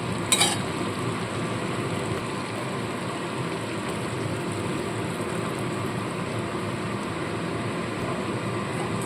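Water is poured into a hot frying pan of potol chingri curry, made with pointed gourd and prawns, giving a steady, dense sizzling hiss that holds evenly throughout with no talking.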